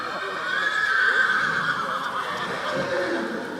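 A horse whinnies at an Anglo-Arab breeding show in Tarbes while an announcer talks over it. A rising, drawn-out call sounds mid-distance, with faint hoofbeats and crowd ambience underneath.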